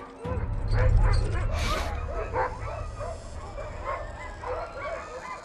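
Sled dogs barking, yipping and whimpering near an approaching polar bear on the ice, an excited, overlapping chorus of close yelps and whines over a low rumbling wind, with a narrating voice running through it.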